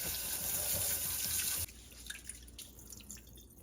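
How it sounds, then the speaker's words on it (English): Rinse water pours out of a pot of rice into a sink, a steady gushing stream for about a second and a half, then stopping into scattered drips and trickles, close and without voices. "then I kind of swirl it around, and then I drain it as much as I can without losing a bunch of rice"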